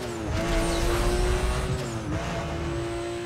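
A racing car's engine whines steadily while its tires squeal through tight turns in the video game Need for Speed: Most Wanted. The engine note rises and dips in a loud, continuous stretch with no talking.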